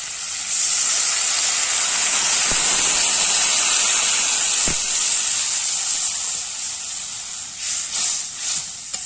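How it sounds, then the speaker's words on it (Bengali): Water poured into a hot pan of sautéed vegetables sends up a loud, sustained hissing sizzle that begins abruptly and slowly fades, with a few faint clinks near the end; no talking. "আমার সবজি ভালোভাবে কষানো হয়ে গেছে, এবার জল দিয়ে দিচ্ছি।"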